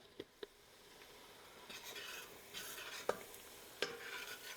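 Flour stirred into melted butter in a pot, a quiet soft scraping with gentle sizzle and a few sharp utensil taps against the pot, close and faint, no voices.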